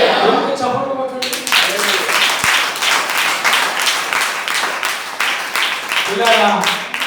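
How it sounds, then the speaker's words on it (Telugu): A church congregation claps together at an anniversary service, a steady rhythmic run of loud, close hand claps. A voice speaks briefly at the start and near the end. "చప్పట్లు కొట్టండి"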